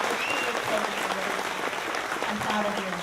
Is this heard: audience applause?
yes